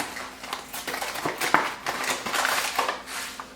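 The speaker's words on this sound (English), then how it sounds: "In this bowl, I am going to add 2 packages of Lipton onion soup mix" Two packets of Lipton onion soup mix are torn and shaken into a bowl, giving crinkly paper rustles and gritty pouring patters in irregular bursts, close up.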